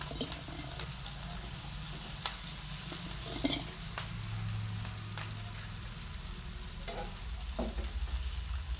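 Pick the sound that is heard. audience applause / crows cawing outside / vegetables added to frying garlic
vegetables added to frying garlic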